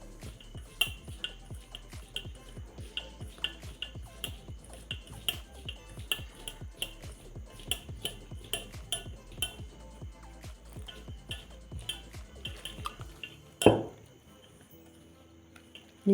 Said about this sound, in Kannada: ಇವಾಗ ಚೆನ್ನಾಗಿ ಮಿಕ್ಸ್ ಮಾಡ್ತಿದ್ದೀನಿ ಇದನ್ನ